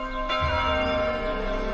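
A bell rings in the animated series Hilda, one resonant struck tone with a sustained, slowly fading ring and a low thud at the strike.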